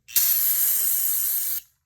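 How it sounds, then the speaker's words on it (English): Carb cleaner is sprayed into a PW50 oil injection box over a small drain pan, a single loud, steady hiss lasting about a second and a half before cutting off sharply. "Take some carb cleaner, little drain pan, spray the hell out of it."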